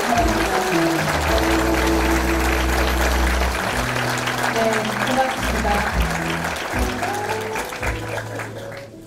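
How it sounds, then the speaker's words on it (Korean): Crowd applause at a political party's founding convention in Korea, a full, continuous clapping that runs beneath loud walk-on music with a deep bass line, while someone briefly speaks over it, fading slightly near the end. "여러분 큰 박수로 예, 축하해 주시기"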